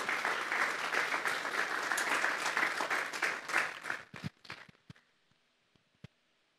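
Members of a church congregation at a Sunday service applaud, a full wash of clapping that dies away after about four seconds, leaving a few scattered last claps and near silence.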